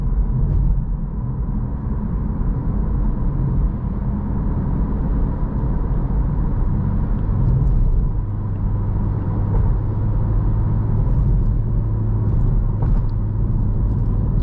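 A 2023 Acura Integra A-Spec engine hums steadily from inside the cabin on a test drive, a continuous low rumble that swells slightly as the throttle is feathered, with no talking.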